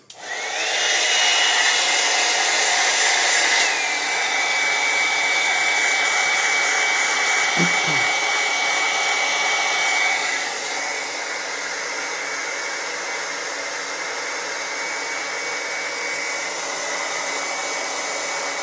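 A hot air soldering gun blows steadily over a circuit board during a stepper driver IC replacement, a loud continuous airy hiss with a whine that drops in pitch partway through and then holds, with no talk.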